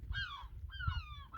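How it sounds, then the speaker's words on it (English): A seagull calls twice near a dinghy on its wheels, each harsh call sliding downward in pitch, then a third call starts; the calls are fairly close and clear over a low rumble of wind or water. "See him? Stephen Seagull."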